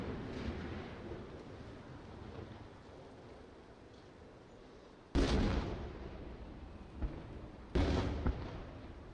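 Missile interceptors launching over the Tel Aviv skyline during an Iranian retaliatory attack: a rumbling distant backdrop broken by two sudden loud booming blasts, each tapering into a rolling decay.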